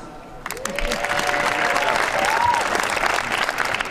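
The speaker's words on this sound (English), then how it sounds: "I just want to give you guys a round of applause." Loud, sustained applause from a large sold-out crowd at a UFC fan Q&A, steady clapping and cheering that swells after a quiet start and carries on without a break.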